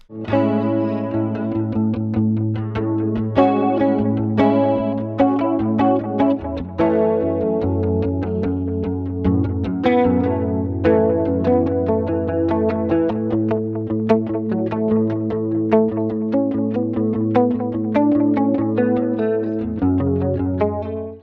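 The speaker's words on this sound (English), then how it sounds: "This sound, paired with a chorus pedal, is the clean sound that defined the 1980s." A clean electric guitar with a shimmering chorus effect plays flowing arpeggiated chords and melody, bright and continuous over a steady low note.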